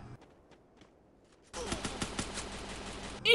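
Gunfire in the mobile battle game Free Fire: after a quiet stretch of faint ticks, a dense burst of rapid automatic shots starts abruptly and continues steadily, loud and close, to the end.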